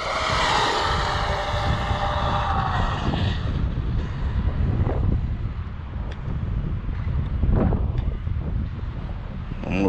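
An Arrma Kraton 8S RC car on a stock 23t pinion speed run screams past at full throttle, a high motor whine that fades into distance under heavy wind noise on the microphone.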